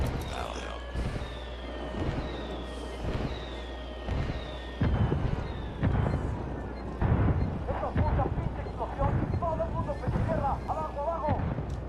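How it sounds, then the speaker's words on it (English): Indirect-fire artillery strikes land in the video game Ghost Recon Wildlands as a string of heavy booming blasts at uneven intervals, each followed by rumbling debris, over continuous low in-game ambience with some background voices. "I'm calling for indirect fire."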